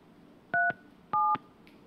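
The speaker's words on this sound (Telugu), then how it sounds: "ఫోన్ కలుపుతున్నారు బిగ్ టీవీకి సంబంధించినటువంటి టెక్నికల్ టీం" Two pairs of steady dual-tone telephone keypad beeps, each short and clean, as a call is dialed to an MLA, with no talk over them.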